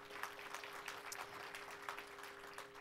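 A conference audience claps steadily for a few seconds, a broad wash of hand claps at moderate volume with no voices over it.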